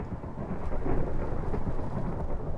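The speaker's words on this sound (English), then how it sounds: "Very appropriate thunder." Thunder rolls in a Minecraft horror mod modeled on Amnesia: The Dark Descent, a low sustained rumble under a steady rainy wash that swells slightly midway and continues alone without speech.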